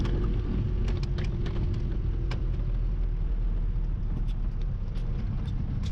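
A camper van in Morocco rolls onto a dirt track, its engine rumbling low and steady and close by, with faint rattles and knocks from the rough ground breaking through now and then.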